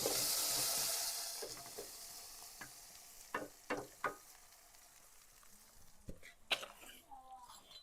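Tempering of asafoetida and curry leaves sizzling in hot oil for Gujarati khatiya dhokla, a broad crackling hiss at first that fades into scattered sharp pops and spits, fairly close.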